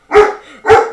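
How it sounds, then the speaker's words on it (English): Two loud dog barks close by, separated by a short pause, with no voices. "Doggos be barking."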